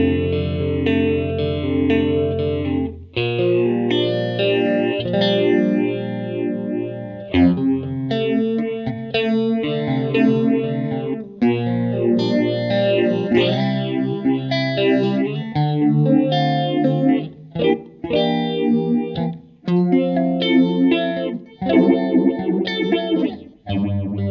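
Electric guitar runs through a Rabbit Hole FX pedal that is cranked to a chaotic, ring-modulated, synth-like tone, with warbling, distorted chords and notes shifting in pitch over a long, busy passage, loud and without any talking.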